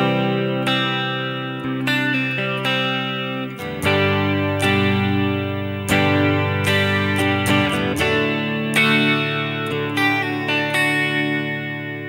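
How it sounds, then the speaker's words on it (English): Distorted electric guitar strumming the chord progression, sustained chords ringing and changing every couple of seconds, loud, close and alone with a touch of effects. "So the basic chord structure could sound something like this."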